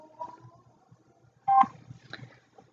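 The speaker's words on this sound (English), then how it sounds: "And I'll mute my phone" A few short electronic button tones from a phone being muted, a brief bright beep standing out among quieter faint tones and soft handling noise, close and isolated.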